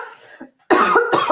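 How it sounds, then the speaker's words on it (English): Two sharp, loud coughs in quick succession, close to the microphone, following a moment of quiet. "all of a sudden, I felt like I needed to cough."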